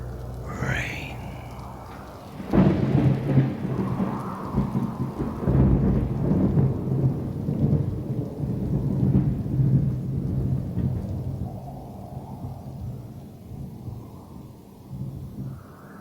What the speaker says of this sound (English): It rains and it rains,